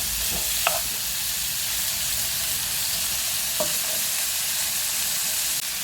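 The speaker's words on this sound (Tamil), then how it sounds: "நல்லா சேர்த்து வதக்குவோம்." Boneless chicken pieces sautéing in a pan for Chinese-style chicken, a loud continuous hissing sizzle close up, broken only by two brief scrapes of a spatula.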